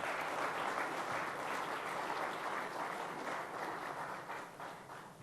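A conference audience at an India Today event claps in a dense, sustained round of applause that fades slightly toward the end, with no voices over it.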